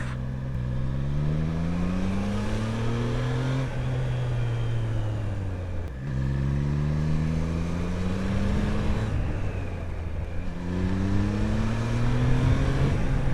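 Triumph Trident 660 motorcycle pulling hard through the gears: three long climbs in engine pitch, each cut off by a shift, loud and close with steady wind roar underneath and no talking.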